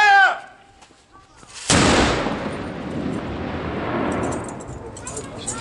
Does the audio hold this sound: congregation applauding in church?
no